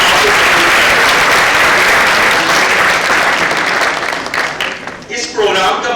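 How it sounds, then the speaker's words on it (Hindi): An audience at a prime minister youth program event applauds, a dense, loud wave of clapping that holds steady and then tapers toward the end. "तो इनके लिए भी तालियां होनी चाहिए"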